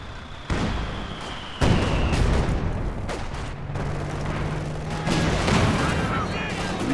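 Artillery barrage in Company of Heroes 2, a 4v4 match: dense, continuous rumbling blasts and shell impacts with sharp onsets, loud and sustained, a commentator talking over it.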